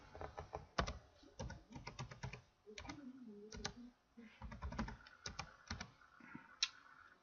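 A file name for an AutoHotkey script is typed on a computer keyboard, quick bursts of close, crisp key clicks with short pauses between words, quiet and with no voices.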